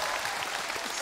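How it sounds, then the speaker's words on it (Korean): Dense, continuous applause from a concert crowd fills the second evenly, loud and close, with no talk over it. "박수 주세요."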